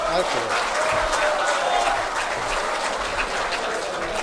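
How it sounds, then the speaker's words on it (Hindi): Audience applause at an Urdu poetry gathering in Azamgarh, a dense, steady wash of clapping from a seated crowd lasting a few seconds, with faint voices mixed in underneath. "तालियां बजा दें"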